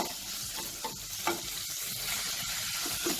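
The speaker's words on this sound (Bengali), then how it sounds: "এই পেঁয়াজ কুচিটা দিয়ে নেব। দিয়ে পেঁয়াজটা কয়েক সেকেন্ডের জন্য একটু নাড়াচাড়া করব।" Finely chopped onion sizzles steadily in a pan while being stirred for a Bengali dhaba-style egg tarka dal, with a dense, continuous frying hiss and occasional soft scraping accents from the spoon, close and fairly loud with no talking.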